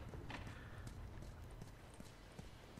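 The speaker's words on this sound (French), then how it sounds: "qui veut un petit poney? C'est gratuit." Horse hooves clip-clopping at a walk in The Last of Us Remastered on PlayStation 4, a faint, steady rhythmic plodding under a low background rumble.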